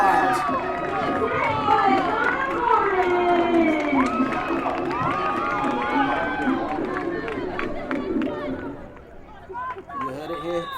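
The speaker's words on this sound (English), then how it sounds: "you can hear the crowd going wild" A soccer crowd at a Western Conference championship match between LA Blues and Colorado Pride roars and cheers continuously, a dense mass of shouting voices that holds loud for most of the stretch before easing off toward the end.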